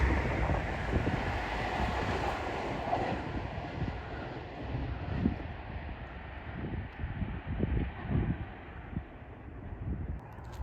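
A train passes steadily along the line, a continuous rumbling roar with some wind buffeting the microphone, sustained throughout without speech.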